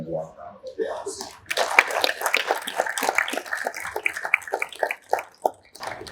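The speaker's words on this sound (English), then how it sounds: "we'd like to offer him a warm round of applause" Applause at a police and fire awards ceremony, scattered clapping that builds into a fuller round and thins toward the end, with some talk underneath at the start.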